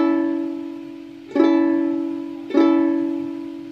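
A major chord on a ukulele, played close and clear as a ringing chord, then struck twice more about a second apart, each strum decaying between hits.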